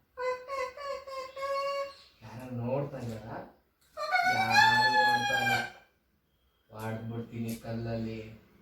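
Human voices imitating a chicken, repeated short clucks followed by a long drawn-out rooster crow and further squawks, loud and close with pauses between bursts.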